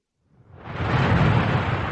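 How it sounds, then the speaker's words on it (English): A thunderstorm with strong winds rises in as a sound effect, a broad roaring rumble that swells over half a second and then holds loud and steady, with no voices. "there was a terrible storm with very strong winds"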